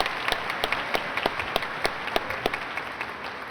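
Audience applause at a junior high graduation ceremony honoring American Legion Award recipients, a steady wash of many hands clapping with scattered sharper claps, moderately distant and without talk.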